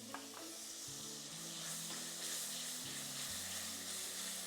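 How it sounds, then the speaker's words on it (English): Garlic frying in oil in a pan for a madras curry, a soft continuous sizzle with occasional faint stirring scrapes, very quiet and steady. "now we're going to go in with the garlic"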